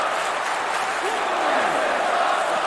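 A virtual arena crowd in a WWE 2K wrestling game cheers and applauds as a steady, fairly loud wash of noise, with a commentator speaking over it.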